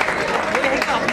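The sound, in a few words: applause at a wedding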